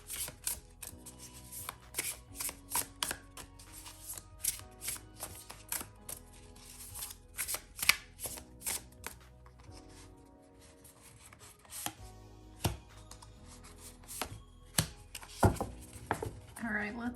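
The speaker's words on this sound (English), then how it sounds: "I also like the noise of the cards" Tarot cards being shuffled by hand, a steady run of soft riffles, taps and slides close to the microphone, with brief pauses between bursts and no talking.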